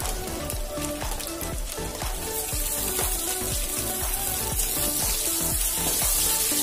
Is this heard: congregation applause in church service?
no